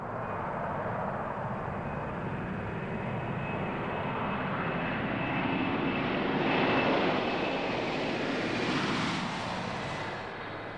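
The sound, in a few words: Boeing 747-400 jet airliner taking off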